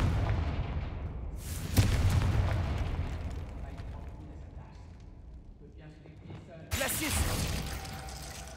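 Confringo fire blast spell in the Hogwarts Legacy video game: two loud booming bursts, one near two seconds and another near seven, each with a long fading roar and game ambience in between.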